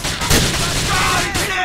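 Rapid gunfire from the video game GTA 4, a loud dense burst of shots blending into a sustained barrage over about a second and a half, with voices faintly present underneath.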